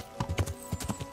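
Horse hooves clip-clop in a steady walking rhythm while riding in Kingdom Come: Deliverance, a close, moderately loud series of soft thuds.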